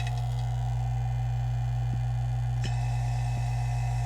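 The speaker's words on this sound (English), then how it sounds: "Vacuum pump on, and then open the valve that's going to pull the air" A vacuum pump pulling air from a chamber for stabilizing stones runs with a strong, steady low hum, marked by a few faint clicks.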